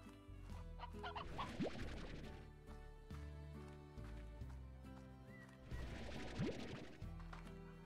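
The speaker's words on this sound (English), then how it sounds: "There's so many chickens!" Chickens cluck in the video game Slime Rancher, a dense, fairly faint flock of repeated clucks layered over the game's steady musical tones and ambience.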